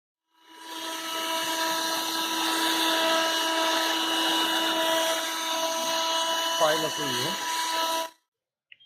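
A Black & Decker AV1205 12V DC car vacuum cleaner switches on and runs with a steady, loud whining motor hum and high harmonic tones, a brief warble near the end, then cuts off abruptly.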